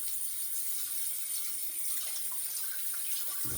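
A safety razor rinsed under a running tap, a steady faint hiss of flowing water into a sink with a brief bump near the end.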